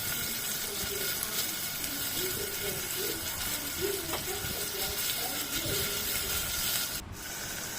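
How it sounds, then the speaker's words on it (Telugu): Sliced onions and green chillies frying in a pan for a dried shrimp tomato curry, a continuous sizzling hiss throughout, fairly close and steady with faint stirring scrapes. "2 పచ్చిమిరపకాయలు, 2 ఉల్లిగడ్డలు వేసుకొని బాగా వేగనివ్వాలండి"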